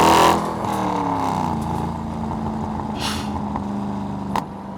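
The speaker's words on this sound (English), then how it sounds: "Listen to those burbles." A 2002 Chevrolet Corvette Z06 engine settles after a loud burst into a steady, lower rumble with uneven exhaust burbles and a few sharp pops, close by and without talk.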